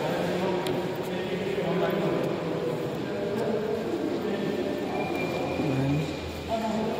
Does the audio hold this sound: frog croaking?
no